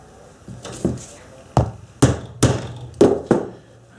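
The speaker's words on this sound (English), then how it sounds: "let's take some scrap leather" A sharpened cheap hole punch struck with a hammer through scrap leather, giving about six sharp, close knocks at an uneven pace, each followed by a brief ring.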